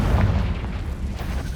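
Fiery Confringo spell blast in Hogwarts Legacy, a loud rumbling explosion that rolls on densely through the moment, no voices.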